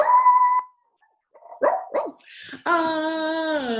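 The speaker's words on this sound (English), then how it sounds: "Until he heard a dog" A dog barks sharply a few times up close, then breaks into a long, drawn-out howl.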